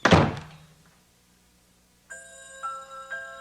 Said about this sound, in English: The scream faded away as Jeannine slammed the door.